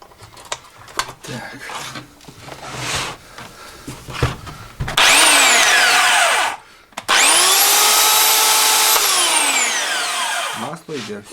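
A Forte electric chainsaw, checked for oil flow after its oil pump is replaced, whirs up loudly to a high whine, briefly cuts out, then runs again steadily before winding down, after some handling clicks and knocks.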